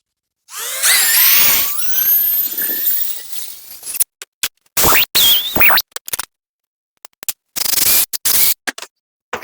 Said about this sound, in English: we're going to need to drill all 4 of these out to 10 mil